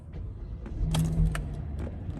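A 2019 Kia Carnival S with a GDI engine starts up close by, a short cranking burst followed by a steady low idle rumble with a faint clatter on top.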